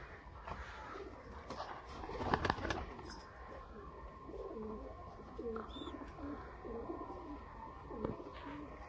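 Sialkoti high-flyer pigeons coo softly and repeatedly close by, their low, rolling calls overlapping against faint background noise with a few scattered chirps and knocks.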